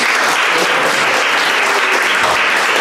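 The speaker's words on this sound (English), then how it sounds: "let's give her a warm round of applause just to welcome her here" An audience at a youth interfaith gathering applauds to welcome a speaker, dense, loud, continuous clapping filling the room.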